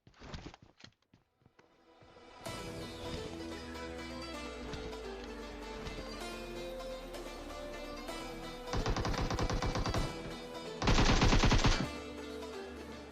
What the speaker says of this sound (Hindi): मैं 2-3 शॉट मारता हूँ और ये अंदर चला जाता है